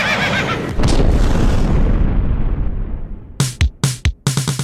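Horse sound effect in a comedic audio drama: a long rumbling boom that fades out, followed by a series of sharp, loud, rapid bursts that may be a horse's whinnying cries, close and with no voices.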